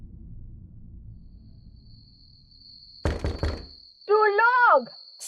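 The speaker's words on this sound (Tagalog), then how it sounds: "may narinig akong kalabog sa pinto." Knocking on a door in a dramatized horror tale: a quick cluster of loud, hard knocks breaks a quiet stretch, followed by a wavering vocal wail over a thin, constant high tone.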